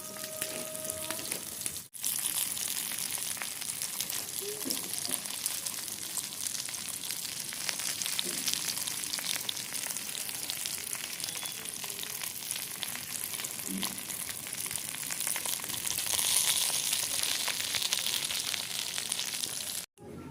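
Fish fries in hot oil in a pan, a loud continuous crackling sizzle that fills the whole stretch with fine spitting pops, close and steady, interrupted once by a brief dropout, no talk.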